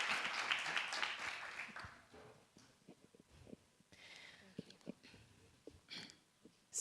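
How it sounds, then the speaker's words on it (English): Dense audience applause fills the opening two seconds at a youth pitch event, then fades into quieter room noise with scattered sniffs and a few faint claps. "another round of applause, please"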